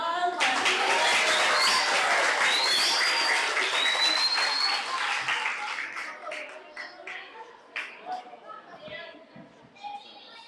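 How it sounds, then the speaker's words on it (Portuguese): Festival crowd at a children's book festival applauding and cheering loudly for a children's theatre group, a dense burst of clapping and children's shouts that fades after about six seconds into scattered voices and chatter. "Faça um barulho, batam palmas."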